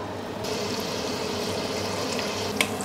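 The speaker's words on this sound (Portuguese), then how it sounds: "temos aqui o nosso o nosso chouriço e o bacon a fritar há cerca de 5 minutos" Chouriço and bacon frying slowly in a pan, a steady soft sizzle with faint crackles and one brief sharper pop near the end, no voices.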